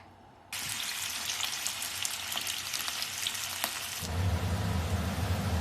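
Thin slices of potato fry in oil in a pan with a loud, steady sizzle that begins abruptly and crackles continuously. Partway through, a deeper bubbling rumble joins it.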